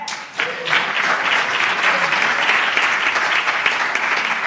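An audience at a church service breaks into loud, sustained applause, dense clapping from many people that starts abruptly and holds steady throughout, filling the room.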